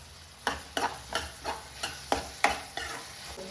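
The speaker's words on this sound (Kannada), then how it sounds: "ಸೊ ಇಲ್ಲಿ ಶುಂಠಿ ಬೆಳ್ಳುಳ್ಳಿ ಪೇಸ್ಟ್ ಹಾಕ್ಕೊಂಡಿದ್ದೀನಿ. ಅದು ರಾ ಸ್ಮೆಲ್ ಹೋಗೋವರೆಗೂ ನಾವು ಫ್ರೈ ಮಾಡ್ಕೊಬೇಕು." Ginger garlic paste frying in a pan while being stirred, a series of about nine rhythmic scraping strokes over a low sizzle, close and quiet.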